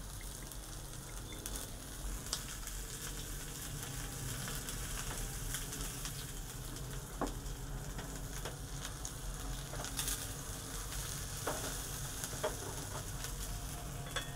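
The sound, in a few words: onion sauteing in pan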